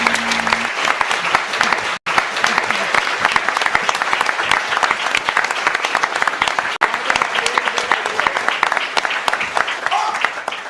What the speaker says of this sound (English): let's show our appreciation for candidates with your applause.